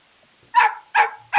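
A dog barks three times in quick succession, loud and close against an otherwise quiet background, with each bark sharp and short.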